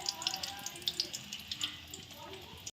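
A cooked yogurt-and-cashew mixture is poured into a pan with ghee, giving a soft, quiet sizzle with a scatter of bright little crackles and wet splashes. It fades as the pour settles.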